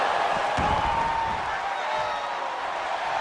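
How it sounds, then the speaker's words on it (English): Roaring crowd noise from a WWE 2K22 wrestling arena in a PS5 game, a dense continuous wash of cheering held loud throughout with no clear single voices standing out. "The sound of this crowd is deafening"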